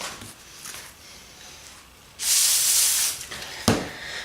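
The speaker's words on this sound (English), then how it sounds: "I'm going to spray it with some WD-40." WD-40 is sprayed onto an old Martini Henry Mk IV rifle: a loud, steady aerosol hiss of about a second, then a short sharp puff, close up, after a few faint earlier sprays.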